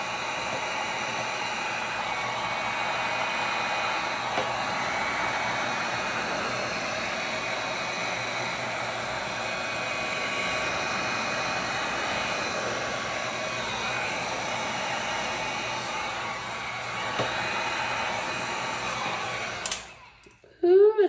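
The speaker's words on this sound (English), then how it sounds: "then come in with that heat gun" A heat gun blows steadily across a resin pour on a circular clock, a continuous loud airy roar for about twenty seconds that cuts off abruptly near the end.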